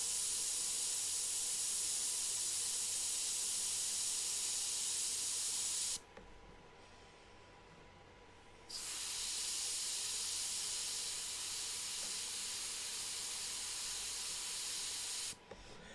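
Airbrush spraying paint onto a portrait of a woman, a steady close hiss that cuts off for a few seconds midway, then resumes before stopping briefly near the end.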